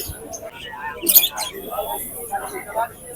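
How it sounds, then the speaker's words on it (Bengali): Live birds and chickens at a Bangladeshi poultry market make scattered chirps and a brief squawk amid busy market noise, with people talking nearby. "এখানে যেখানে পাখি আছে দেখায় আপনাদের"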